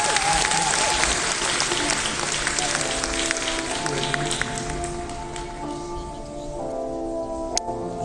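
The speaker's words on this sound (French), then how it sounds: "On applaudit bien fort Lolan des carnets de l'apothicaire." A convention crowd at a cosplay contest final applauds loudly for a contestant, the clapping gradually thinning as music tones rise underneath.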